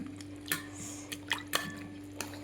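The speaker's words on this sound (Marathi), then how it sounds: "परत अजून एकदा दुसऱ्या पाण्यात धुवायच्यात" Red chillies for a Rajasthani garlic-chilli chutney being swished and rinsed in a second bowl of cold water, giving a few soft, close splashes and drips with brief pauses between them.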